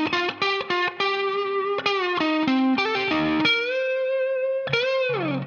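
Distorted electric guitar with effects plays a lead part, a string of sustained, bending notes played alone, loud and close.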